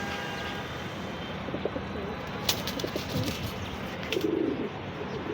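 Pigeons coo softly and intermittently in a pen of birds being shown for sale, with light chirps over a steady background hiss.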